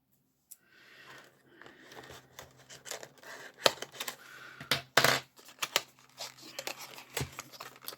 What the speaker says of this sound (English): I will just use these scissors.